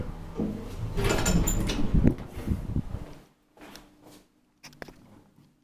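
Doors of an old Valmet traction elevator slide and rumble for about three seconds, then go quiet apart from a few faint clicks and a soft thump, heard close and alone.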